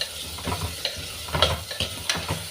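Two small chopped tomatoes being stirred in a hot pan for an Onam-style rasam: soft sizzling with scraping stir strokes and light clatters, close up and without talking.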